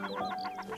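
Waterfowl, such as shelducks, call in a breeding area on the Danish islands, a rapid series of about five nasal, cackling notes at moderate distance with no other sounds.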